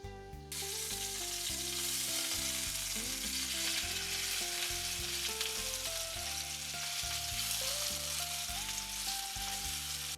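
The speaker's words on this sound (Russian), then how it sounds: "В сковороду я налила немного растительного масла и обжариваем грудку" Steady, loud sizzling and crackling of chicken breast pieces frying in hot vegetable oil in a pan, continuous throughout with no talking.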